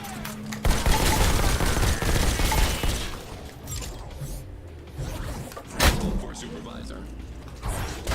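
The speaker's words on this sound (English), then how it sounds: "Shotgun pellets" Shotgun blasts from the VR shooter Robo Recall, loud bursts of gunfire and clattering impacts filling the scene, with a sharp blast near the middle and a voice talking over the action.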